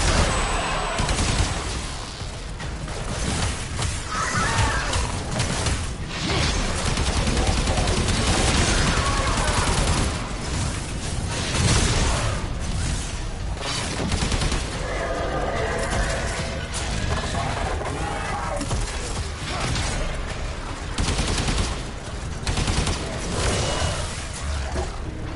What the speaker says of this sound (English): I'm using the dual pistols, but I'm only shooting one of them.